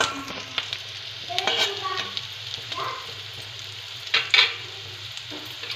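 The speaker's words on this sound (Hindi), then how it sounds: "प्याज के साथ पनीर को फ्राई कर लूँगी" Paneer frying with onions in a pan for Maggi noodles sizzles and crackles steadily, with stirring scrapes and a few louder clatters near the end, close by and with no one talking.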